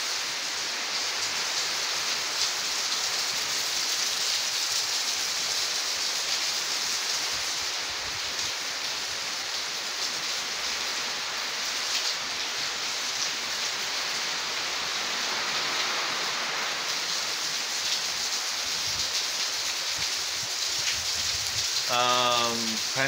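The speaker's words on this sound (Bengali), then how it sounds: "সে বৃষ্টি সবাইকে দেখালাম।" Steady rain falling outdoors, an even, continuous hiss of drops on surfaces lasting over twenty seconds, moderately loud and unbroken, with a brief faint tonal sound near the end.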